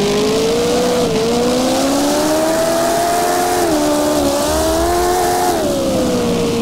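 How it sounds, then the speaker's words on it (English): Engine of a drift car in the Assetto Corsa racing game, apparently a Mazda RX-7 FC, Toyota AE86, Nissan S13 or Mitsubishi Lancer, revving high and screaming steadily, its pitch rising and dipping with throttle, loud and close with no talk. "This thing absolutely just screams when it gets up to there."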